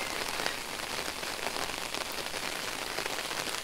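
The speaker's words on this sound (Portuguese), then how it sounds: "Tempo muito nublado aí aquela chuvinha mansa." Gentle, steady rain falls on trees and surrounding surfaces under an overcast sky, a soft even patter with scattered drops, heard from nearby and quiet, with no voices.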